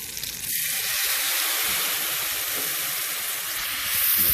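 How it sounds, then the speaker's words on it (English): A pan is deglazed after frying chicken fried steak, and liquid hits the hot surface in a loud, steady, close hiss and sizzle that continues throughout. "what I'm gonna be doing now is called deglazing the pan"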